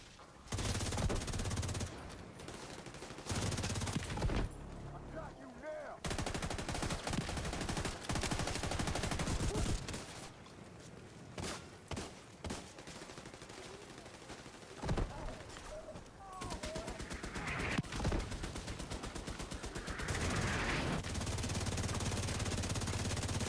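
Video game gunfire while destroying turrets, bursts of rapid automatic fire and shots coming in irregular clusters, loud, with brief quieter gaps between volleys.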